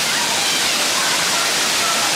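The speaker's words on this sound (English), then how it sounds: "I do love the waterfall" A waterfall on a hiking trail, a dense, steady roar of rushing water filling the foreground with no breaks.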